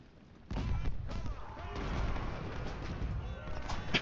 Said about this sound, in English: And we'll just let our artillery do its work.